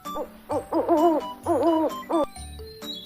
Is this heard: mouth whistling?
no